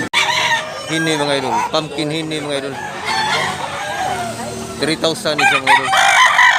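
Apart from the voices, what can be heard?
rooster crowing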